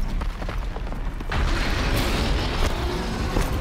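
A machine blows up in the Horizon Zero Dawn video game, a loud booming blast with a sustained burst of crackling debris and rumble that persists after the initial hit.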